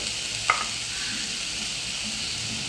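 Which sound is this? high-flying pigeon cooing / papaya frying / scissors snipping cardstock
papaya frying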